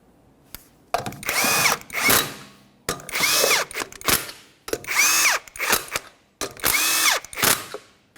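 An impact tool runs the wheel lug nuts down on a 1994–1997 Honda Accord 2.2L, four loud separate bursts of whirring and rattling hammering, each a second or so long, with brief pauses between them.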